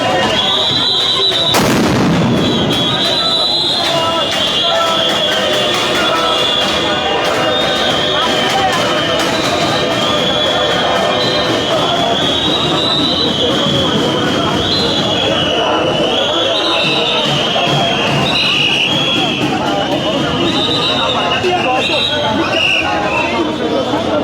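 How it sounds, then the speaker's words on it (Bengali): Sound grenades fired at protesting teachers, heard as a sudden loud boom early on, followed by dense crowd noise, shouting and chatter that continue throughout. "কয়েক দফা সাউন্ড গ্রেনেড দিয়ে আসলে তাদেরকে প্রতিহত করার চেষ্টা করছেন"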